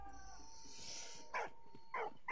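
A dog in the World War I video game Valiant Hearts gives a whimpering whine followed by two short, sharp barks, near and clear against a quiet game background.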